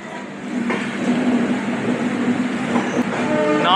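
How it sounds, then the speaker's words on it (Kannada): A train runs at a busy railway station on a night departure from Majestic, Bengaluru, with a loud rumble, a steady droning tone and rising whistle-like squeals near the end. "11:20ಗೆ ಟ್ರೈನ್ ಕರೆಕ್ಟಾಗಿ ಬಿಟ್ಟಿದ್ದಾರೆ ಮೆಜೆಸ್ಟಿಕ್ಕಿಂದ"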